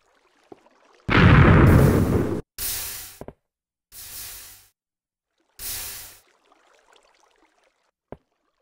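Video game TNT detonating in a mined tunnel: one loud, broad blast lasting over a second, then three shorter booming rumbles spaced apart, and a quiet tail with a faint click.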